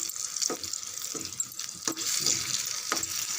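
Garlic and masala sautéing over low heat in a home kitchen pan, a soft hiss and sizzle with occasional scraping and stirring clicks, fairly close but quiet.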